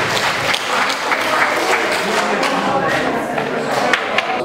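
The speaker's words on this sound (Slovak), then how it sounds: "Poprosím potlesky." Sustained audience applause at a community cultural evening in a hall, dense steady clapping from a large crowd that holds at an even level throughout with no break.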